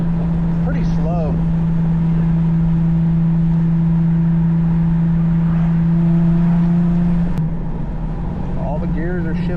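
A Nissan 350Z engine drones steadily from inside the car while driving, then its pitch drops sharply at a gear shift near the end. Brief voices surface faintly over the engine.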